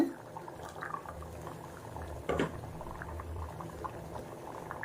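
Beans kulambu simmers and bubbles in a pot as ground coconut paste is poured in, a soft liquid pour with a brief louder splash midway under quiet background noise.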